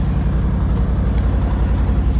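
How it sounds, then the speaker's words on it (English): A 1990 Ford F250 idles with an exhaust leak, making a steady, close, deep engine rumble with a continuous low throb and no break throughout. "I'll show you the exhaust leak real quick."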